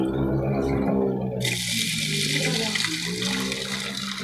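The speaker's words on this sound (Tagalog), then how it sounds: "Nalagyan ko na siya ng tubig dito sa gripo." Water rushes steadily from a garden hose into a container of salt water, a loud continuous gushing that brightens and broadens after the first moment and carries on throughout.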